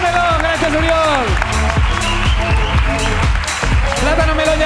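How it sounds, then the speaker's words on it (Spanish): Audience applause at a live Spanish comedy show, a steady wash of clapping that continues for several seconds with music and voices layered over it. "¡Aplauso, por favor, para Oriol y para Plátano Melón!"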